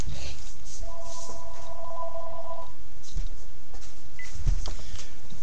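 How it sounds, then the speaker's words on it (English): A telephone gives a single clear electronic ring of about two seconds, then falls silent, leaving quiet room noise and a few faint knocks. "Hold on, let me answer the phone."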